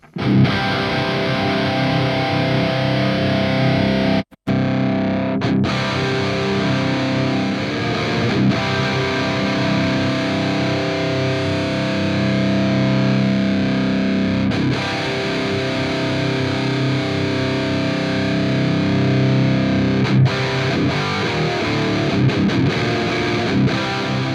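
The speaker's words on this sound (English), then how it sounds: "I've gone for a thick EL34, kind of gritty in the top end, sort of aggressive, quite fast sounding distortion" A heavily distorted, high-gain electric guitar through a Neural DSP Archetype Gojira amp simulation, thick EL34-style tone, plays loud, thick chords continuously, with one brief cut-out early on before the riff resumes.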